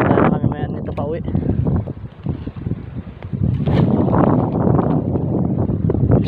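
Strong wind buffets a small fishing boat out on open water, a steady, loud rushing roar with gusts that swell near the end. Voices talk over it at times.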